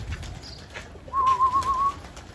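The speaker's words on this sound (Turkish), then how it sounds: "Aha arkadaşlar iki tane kuş da kalktı" A homing pigeon lifts off and flies from a rooftop loft, giving a clear, thin whistling tone for about a second over faint outdoor background noise.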